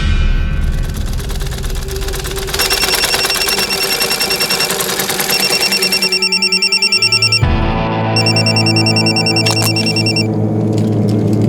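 A mobile phone rings loudly and continuously, a pulsing electronic ringtone whose pattern shifts partway through. It plays on its own with no talk over it.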